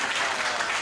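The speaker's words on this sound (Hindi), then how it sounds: "तो एक बार ताली बजा दीजिए।" A live audience breaks into applause, a dense steady patter of clapping filling the whole short moment, fairly close and with no speech over it.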